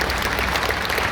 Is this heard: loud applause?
yes